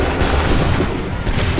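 Massed muskets fire a volley in Assassin's Creed 3, a loud, dense crackle of overlapping shots with booming rumble across a short, continuous burst.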